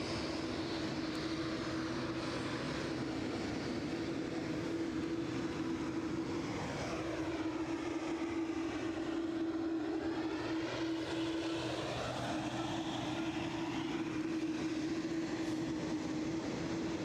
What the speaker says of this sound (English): I think Aer Lingus is going off early.